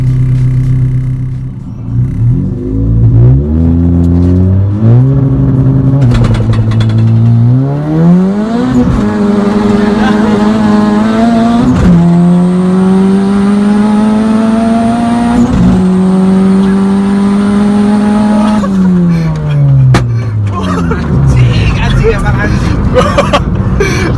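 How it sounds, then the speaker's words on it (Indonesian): Honda Jazz GK5 fitted with a turbo and over 300 hp accelerating hard, engine revving up through several gears in loud rising sweeps with abrupt shift drops, recorded from inside the cabin. "Nah ini sekarang mau cobain tarikannya nih."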